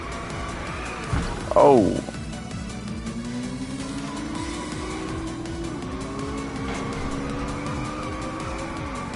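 A car drifting in the racing video game Inertial Drift, its engine revving and tires squealing in a sharp burst, then a rising engine drone with gear shifts as a voice talks over it.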